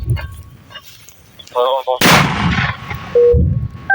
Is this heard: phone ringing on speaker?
no